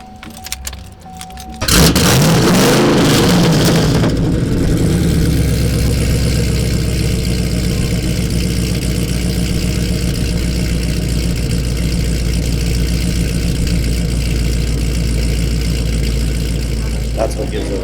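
A big V8 engine in a 2015 Chevrolet Camaro ZL1 fires up with a loud roar, then settles into a deep, rumbling idle heard close by.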